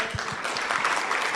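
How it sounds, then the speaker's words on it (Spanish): A standing church congregation applauds loudly for Jesus in a brief burst of dense, steady clapping that fills the space, with a few low thumps underneath. "vamos a aplaudir a Jesús, fuerte"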